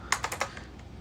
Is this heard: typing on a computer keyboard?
yes